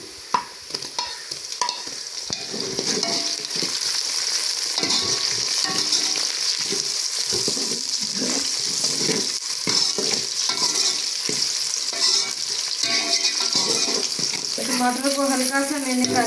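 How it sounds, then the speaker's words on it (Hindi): Tomatoes fry in a pan with browned onions, giving a steady sizzle under repeated scraping and stirring strokes, close and moderately loud, with a brief higher tone near the end. "टमाटर को हल्का सा मैंने कर लिया फ्राई।"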